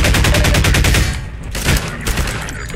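Rapid bursts of automatic gunfire from the video game Half-Life 2, loud and close, firing in a fast regular rhythm for about a second, then giving way to scattered shots and action noise.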